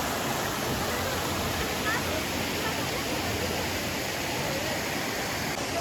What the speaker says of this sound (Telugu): ఇది కంప్లీట్గా వాటర్ ఫాల్స్.